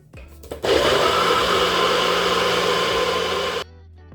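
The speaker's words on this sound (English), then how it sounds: "For me, I just prefer this Nutribullet" Nutribullet blender whirring loud and steady for about three seconds after a couple of clicks, then cutting off abruptly.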